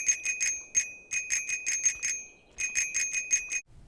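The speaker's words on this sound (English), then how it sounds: "Hey look, a bicycle bell!" Bright, metallic bicycle bell in a video game rings in quick bursts of repeated dings, two clusters separated by a short pause, clear and close with nothing else around it.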